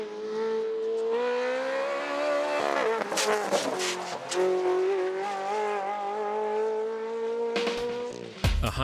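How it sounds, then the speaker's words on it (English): A Ferrari 360 Modena Challenge with a high-revving V8 screams up a hill climb course, holding a loud sustained note with gear changes, tyre squeal and a sharp burst near the end. "A high-revving V8 provides huge lashings of power and torque"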